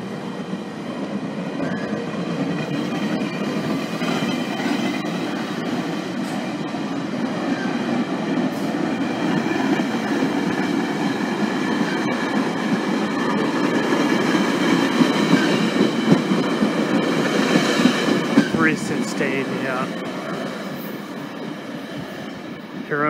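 A westbound GO Transit train passes near Bronte GO station, with a steady rumble and rhythmic wheel clatter that swells louder mid-pass, along with faint squeals.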